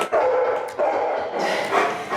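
A dog barks in a few loud, close bursts with short yips between them, heard alone during an indoor interval training workout.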